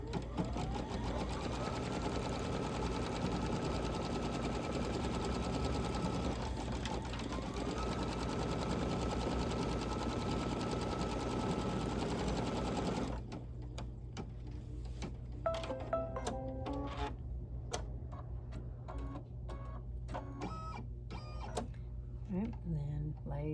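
An embroidery machine stitches a placement line in dark green thread with a fast, steady mechanical whir and needle ticking that runs continuously and then shifts to sparser, irregular clicks partway through, close and even.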